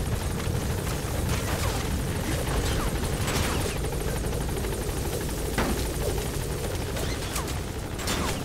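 A helicopter in the video game Metal Gear Solid V: The Phantom Pain, its rotor drone loud and constant under scattered bursts of gunfire and booms, with no voices.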